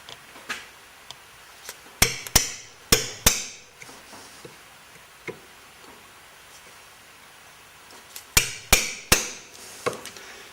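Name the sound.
hammer punching holes in wheel part held in vise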